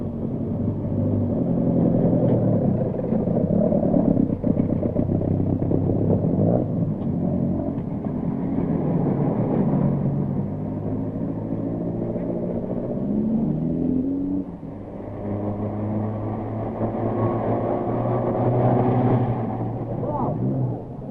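Rally cars at the 1971 Rally de Portugal idle and rumble forward one by one toward the start line, a continuous, fairly close engine drone with occasional revs and a brief dip midway.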